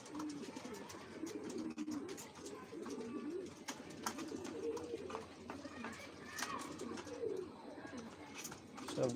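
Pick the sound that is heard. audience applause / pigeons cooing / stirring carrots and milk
pigeons cooing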